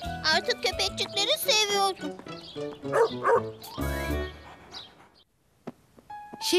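Short, sharp cartoon dog barks and yips come in quick bursts from a children's animated show, mixed with cheerful music and high chirpy tones, while a narrator and characters talk around them.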